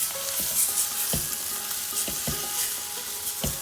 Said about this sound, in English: I'm just frying these spices with onion for just 2 minutes